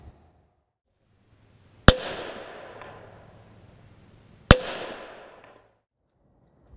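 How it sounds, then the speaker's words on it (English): Two loud, sharp .45 ACP pistol shots fired into a cardboard spall-liner test box, about three seconds apart, each a sudden crack followed by a fading echo. "when we shoot it with some 45 ACP."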